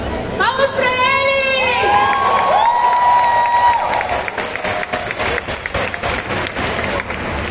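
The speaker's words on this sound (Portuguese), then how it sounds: "Palmas pra ele!" Loud crowd applause and cheering for a World of Warcraft cosplayer at a CCXP 2022 cosplay contest, continuous clapping with whistles and shouts in a large hall, and voices calling out over it.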